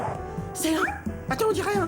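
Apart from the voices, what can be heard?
dog barking, cartoon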